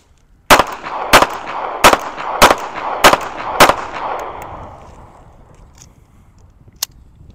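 Six sharp, loud pistol shots from a Ruger LCP II and Smith & Wesson Bodyguard .380, fired in a steady rhythm roughly half a second apart at close range, each echoing and fading into quiet, with one faint click near the end.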